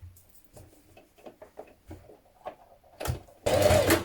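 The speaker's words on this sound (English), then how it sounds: "you're going to stitch that shoulder seam in place" A sewing machine stitches a shoulder seam on a top, with scattered light taps and clicks before a louder, steady burst of whirring stitching at the end.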